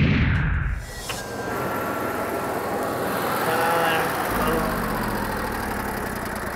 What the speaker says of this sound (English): Now, we love this Cummins Onan 7000 generator